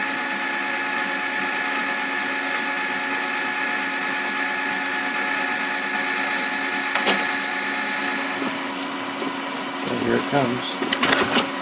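A solenoid clicks inside a Magicolor 2400w color laser printer, two sharp clicks over a steady mechanical hum from the running machine, with someone talking nearby.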